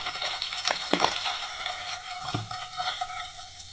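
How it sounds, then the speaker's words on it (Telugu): Ginger garlic paste and chopped onions fry in a pan with a steady close sizzle, broken by a few sharp scrapes and knocks of a spoon stirring against the pan. "ఇది చక్కగా మనం పచ్చిదనం పోయేంత వరకు వేయించుకుందాం"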